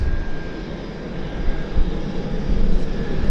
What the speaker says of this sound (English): that's a Medevac King Air taxiing in